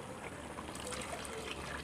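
Water trickles and splashes steadily into a frying pan of sambal for a couple of seconds, a soft continuous liquid pour with no talking.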